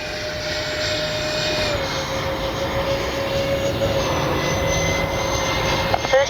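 A Freewing 80mm A-10 V2 RC electric ducted-fan jet makes low passes at dusk, a steady loud whooshing whine that holds throughout with a slowly shifting pitch as the plane sweeps by.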